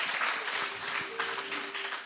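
A church congregation applauds during a sermon, giving a steady wash of moderately loud clapping for about two seconds, with a faint sustained tone running underneath.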